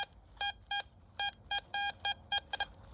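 A metal detector gives short electronic signal tones, about nine clipped beeps in an uneven, stuttering rhythm over a faint background hiss.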